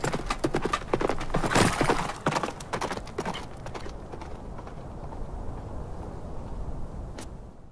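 Video game horse (Dynasty Warriors) hooves clip-clop at a gallop, loud and rapid for the first few seconds, then fade into a softer rumble with a brief sharp sound near the end.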